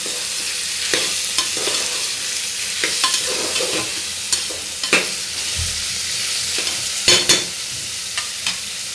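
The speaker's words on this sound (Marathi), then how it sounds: "तेलात चांगला फ्राय झालं की आपण हे टोमॅटो घालूया। व्यवस्थित परतून घेऊया।" Tomatoes frying in hot oil for a prawn rice dish, with a steady broadband sizzle under repeated sharp scrapes and clinks of a spoon stirring the pan, close and fairly loud, no talking.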